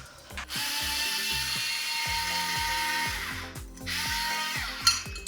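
A screwdriver draws a screw out of an old building's thick concrete wall with a steady, whining mechanical drone that dips briefly and resumes, fairly loud and close, with no voices.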